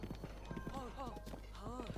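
Horse hooves clip-clop in the video game Zelda Breath of the Wild, a quiet rhythmic patter of footfalls under a person speaking over the game.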